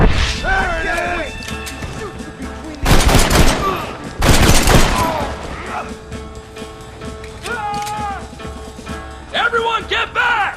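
Gunfire from a Red Dead Redemption shootout comes in two loud, dense bursts of rapid shots with crashing impacts, while shouting voices call out between and after the volleys.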